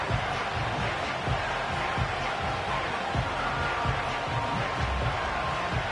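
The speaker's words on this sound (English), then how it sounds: "This crowd into it now as we get to 3rd down" A football stadium crowd roars steadily ahead of a third-down play, a broad, continuous wash of cheering with rhythmic low thumps, heard under a faint announcer's voice.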